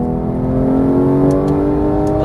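A GT3 race car engine roars loud and close on a circuit, holding a steady, strained high-revving drone as it powers back onto the throttle.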